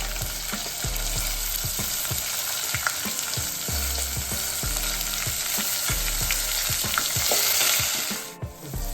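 Sliced onions and dried red chillies sizzle steadily in hot oil for vegetable upma, a close, continuous frying hiss broken by the scrape and clatter of stirring.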